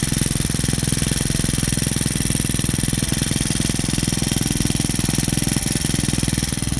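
A small four-stroke New West grass trimmer engine runs at a steady, rapid idle, loud and close, with a constant buzzing putter throughout and no voices.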